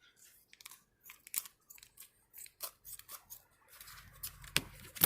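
Scissors snip repeatedly through a slippery plastic bag, cutting off its bottom: a string of short, close crisp cuts with crinkling plastic, ending in a louder final snip and rustle.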